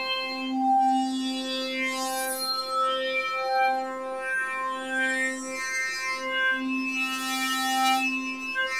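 Braids wavetable synthesizer in WTX4 mode morphing evenly between wavetables, a sustained tonal drone with shifting bright harmonics and bursts of upper sparkle, steady and fairly loud with no talk.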